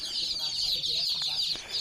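Tiger breed chicken chicks kept for brooding chirp continuously in a thin, high, overlapping chorus, fairly faint and close, with occasional soft clucks underneath.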